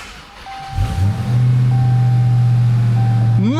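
A Dodge Charger Hellcat's 797-hp engine cranks and fires up at about one second, then holds a loud, steady idle close by, with a brief rising rev near the end.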